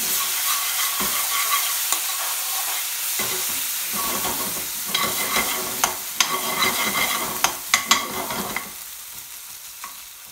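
Onions, garlic and green chilli fry over medium-low heat in a pan for BIR-style garlic chilli chicken sabzi, a continuous close sizzle with periodic stirring and several sharp utensil clacks toward the end, no voices.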